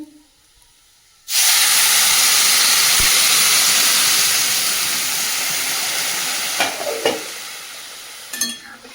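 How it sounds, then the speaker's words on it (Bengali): Hot water hits red-fried taro in a pan with a sudden loud burst of sizzling and steam hiss, holding strong and slowly easing, with a few utensil scrapes near the end. "এদিকে গরম জল চাপিয়ে দিয়েছি গরম জলটা ঢেলে দেবো কচুর মধ্যে"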